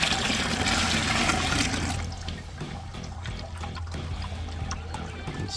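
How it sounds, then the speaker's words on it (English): Water is poured into a dutch bucket in a homemade aquaponic system: a loud splashing rush for about two seconds, then a softer, uneven trickle and dribble as the flow settles. "I'm just going to pour some water in here."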